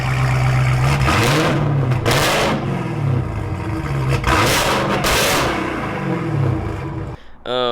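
A Dodge Hellcat drift car revs through a carbon X-pipe exhaust with a deep, loud engine note, rising and falling in several close blips before cutting off at the end.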